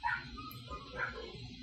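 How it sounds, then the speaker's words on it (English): Dogs barking and yipping nearby, a couple of short faint yelps with a low, steady murmur underneath. "Can y'all hear these fucking dogs?"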